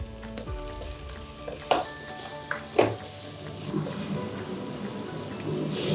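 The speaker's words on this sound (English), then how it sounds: "I'm going to add 2 onions that are finely chopped and sauteed till they're translucent" Finely chopped onions sauteing in a pan for masoor ki dal, a steady close sizzle and crackle of frying with a few sharp clinks of a utensil stirring against the pan.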